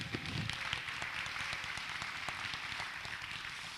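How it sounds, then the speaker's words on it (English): A luncheon audience clapping for board members, a fairly soft, steady patter of many hands at a distance, continuous and even with no talking over it. "because we want to clap for you too."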